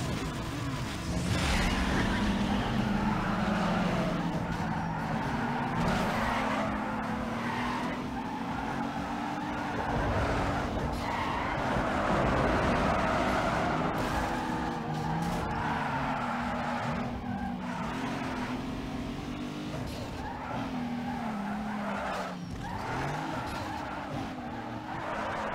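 A street-racing car in the video game Need for Speed Underground 2 revs hard with its engine droning continuously, while tires squeal and skid repeatedly through turns, loud and constant, with a voice faintly talking underneath.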